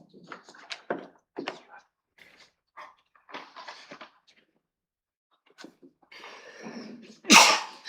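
A single sharp sneeze bursts out near the end during a city council business meeting, following scattered quiet speech and rustling in the chamber.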